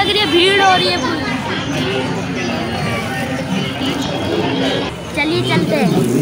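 A crowd of devotees queues at the Badi Patan Devi temple in Patna, a dense, steady murmur of many overlapping voices with nearby people talking throughout.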